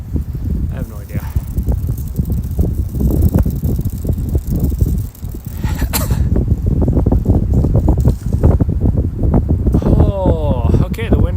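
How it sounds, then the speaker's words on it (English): Strong wind gusting over the microphone on an evening trail run, a heavy continuous low roar and buffeting throughout, with people's voices faintly audible beneath it. "the wind is picking up"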